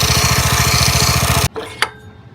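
A 120 grit sanding belt grinds down a minibike shaft with a loud steady buzzing drone for about a second and a half, then cuts off, followed by a single sharp knock.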